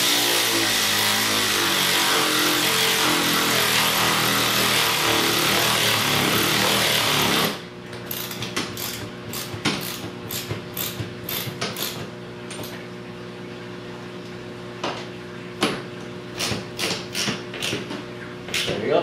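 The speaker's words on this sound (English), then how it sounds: "If you're lucky enough to have a battery operated ratchet wrench, you could use that" A battery-operated ratchet wrench driving a screw while mounting a wall bracket, a loud continuous motor whir for several seconds, then a series of sharp clicking ratchet bursts and knocks.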